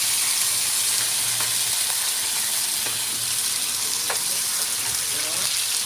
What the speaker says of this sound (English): I know you hear the sizzling.